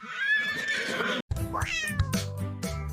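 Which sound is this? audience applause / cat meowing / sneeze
cat meowing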